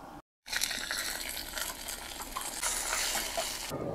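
A steady, loud sizzle of spices frying in hot oil in a pan on a wood-fired stove, starting after a brief silence and hissing continuously.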